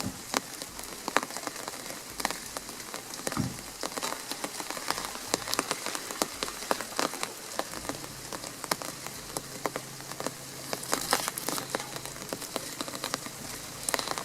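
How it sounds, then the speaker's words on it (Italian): Steady rainfall patters on leaves and hard surfaces in a garden, with scattered louder drips landing close by throughout. "Dopo oltre un mese finalmente piove."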